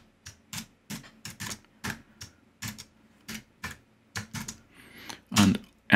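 Wi-Fi password typed on a computer keyboard during Raspberry Pi Zero RetroPie setup: a dozen or so crisp, close key clicks in an uneven rhythm, ending with a couple of heavier presses.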